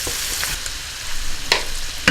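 Butter sizzling in a hot frying pan while cooking chicken livers, a steady close hiss with a few sharp pops and crackles near the end.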